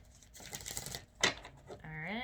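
Tarot cards are shuffled close up in a brief papery riffle and clatter, followed by a moment of speech.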